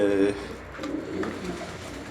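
Blue-headed tumbler pigeons coo softly in a low, throaty murmur, with a couple of brief louder coos over a faint background.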